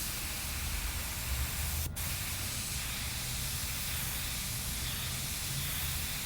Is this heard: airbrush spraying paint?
yes